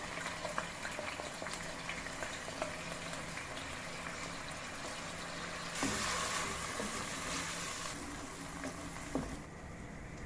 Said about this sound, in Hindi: पानी में उबाल आ गया, अब इसमें मैं चावल शामिल कर दूँगी।